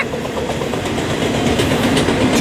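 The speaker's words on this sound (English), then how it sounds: "Cam, there was a CSX unit in that train." A freight train with a CSX AC4400 locomotive rolls past at night near Barstow, California, a steady loud rumble of wheels and rail noise filling the whole stretch with faint clicking on top.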